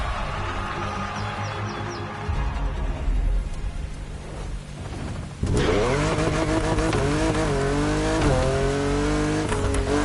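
Racing cars in The Crew Motorfest, engines droning under a steady roar, then a sharp jump to loud high-revving acceleration with rising gear-change whines and tyre noise, close and continuous.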